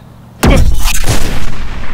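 A finger gun in a short film fires a gunshot sound effect: one sudden, loud, close blast that booms and rolls on with a long echoing tail, with no voices.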